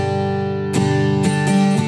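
Acoustic guitar strums a chord progression, with a steady sustained chord and several crisp downstrokes near the end, close and loud with no voice.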